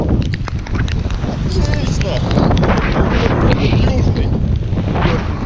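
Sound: strong west wind blowing by the water

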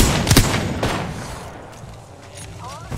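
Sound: revolver gunfire in video game

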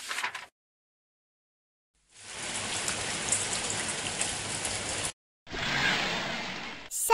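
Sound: rain falling

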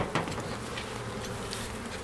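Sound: honey bees buzzing at open hive

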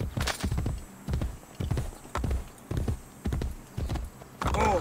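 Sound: horse hooves clip-clopping in the video game Assassin's Creed Brotherhood

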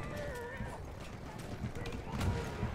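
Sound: horse in video game Battlefield 1

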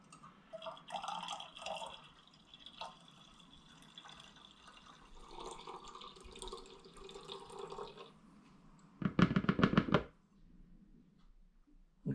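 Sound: pouring apple juice and honey into a demijohn

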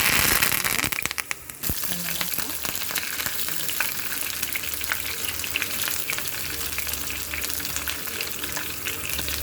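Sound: mustard seeds spluttering in hot oil

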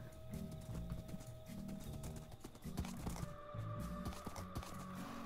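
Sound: horse hooves trotting in the video game Minecraft

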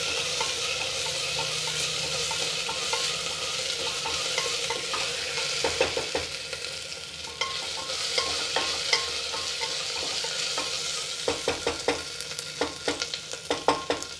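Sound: ginger garlic paste frying for veg biryani

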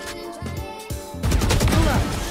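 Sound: gunfire in a video game

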